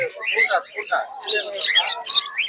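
Caged pet birds, including cockatiels, chirp and tweet busily in the background at a village bird market in Madhabdi while someone talks over them.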